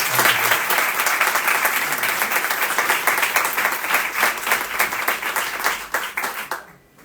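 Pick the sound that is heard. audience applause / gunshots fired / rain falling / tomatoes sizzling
audience applause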